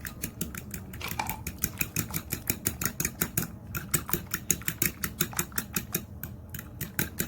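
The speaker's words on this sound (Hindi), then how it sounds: "देसी घी को अच्छी तरह से मिक्स करेंगे।" Desi ghee being whisked briskly into a milk powder rasmalai mixture, a steady fast train of close clinking and scraping strokes against the bowl that runs for the whole stretch with no talk.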